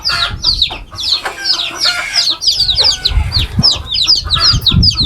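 A hen clucking while feeding at a farm with small chicks nearby, loud close clucks and rapid squawking calls repeating throughout, with scattered scuffling and a possible distant crow.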